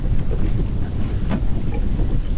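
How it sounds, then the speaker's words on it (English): Strong wind buffets a small boat out bass fishing on a Maine lake, a loud continuous roar of gusts battering the microphone over lapping water, with no talking. "Oh, the wind."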